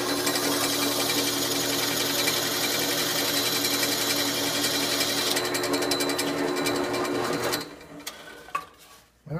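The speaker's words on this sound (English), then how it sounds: "hold the pipe perpendicular, so I can go ahead and drill it." A loud, steady mechanical whir and chatter of a drill boring through an organ pipe for a band organ runs continuously, then cuts off and winds down near the end.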